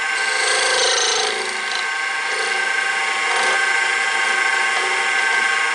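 A wood lathe turns a bottle jig while a cutting tool cleans up its center, giving a steady raspy, scraping hiss over a constant motor hum, close and fairly loud, with no talking.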